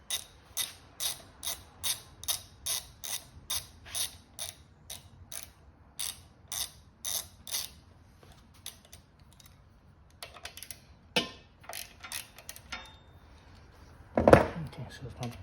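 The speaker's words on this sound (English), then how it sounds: "Let me unbolt this." Bolts being undone on the front rack of a Honda Trail CT125 motorcycle, a quick rhythmic ratcheting clatter that pauses, resumes in short bursts and ends with a louder clunk, heard close up.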